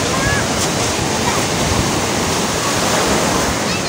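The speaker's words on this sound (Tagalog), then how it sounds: "Guys, oh, tanawa ang balod guys. Nagbula-bula ang kadagatan." Heavy sea surf crashing and foaming steadily and loudly, a dense continuous roar of breaking waves with wind buffeting the microphone throughout, no voices.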